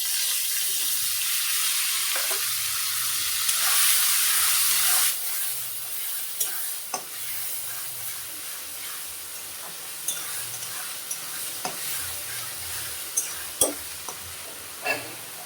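Onion, garlic, ginger, chili paste, cumin powder, salt and turmeric frying with rice in a pan, a steady close sizzle with a few sharp stirring clicks and scrapes throughout, no talking.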